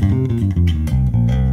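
Fender Jazz bass fitted with DiMaggio pickups and a Glockenklang active preamp, EQ set flat, playing a short run of deep sustained notes that change pitch a few times, close and loud, with no talking.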